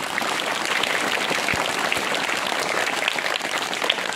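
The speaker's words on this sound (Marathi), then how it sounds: "जोरात टाळ्या वाजवा रे" Loud, continuous applause from a group of schoolchildren in a classroom at a Zilla Parishad primary school, dense and steady clapping throughout with a few brief thuds.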